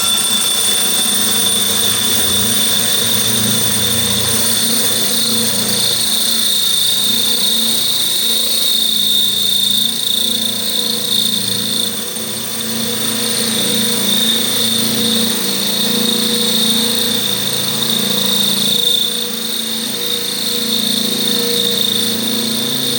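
A power drill held upright like a drill press while fitting an isolated water filter runs as a steady loud mechanical whine and hum, close and continuous throughout.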